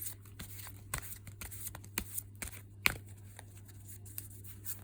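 Fairy oracle cards are shuffled by hand in quiet indoor space, giving soft repeated riffles and slaps in irregular bursts over a low steady hum.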